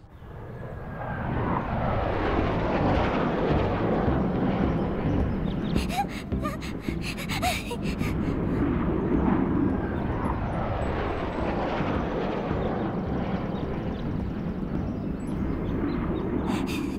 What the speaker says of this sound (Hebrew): זהו צליל של מטוס.